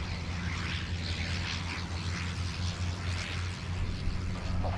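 Fairchild Metroliner turboprop at Sydney Airport, a steady, loud broadband engine roar with low droning hum, continuous throughout with no speech.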